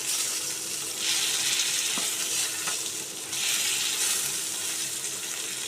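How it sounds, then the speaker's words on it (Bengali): Parshe fish frying in hot oil in a kadai, a continuous close hissing sizzle that swells louder in two waves, with a couple of faint ticks from the pan and no voices. "অন্য পিঠটাও ঠিক এইভাবেই লাল করে ভাজবো"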